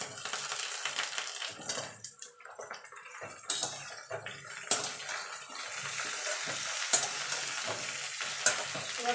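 Ridge gourd and pumpkin pieces are stir-fried with pointed gourd in a pan, giving a soft sizzle broken by irregular scraping and stirring clatters, close and fairly quiet, with no talking.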